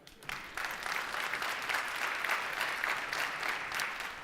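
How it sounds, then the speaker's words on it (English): A conference audience in Stockholm breaks into sustained clapping that starts abruptly and holds at an even, moderate level, with a dense and fairly distant texture. "Clap if you agree."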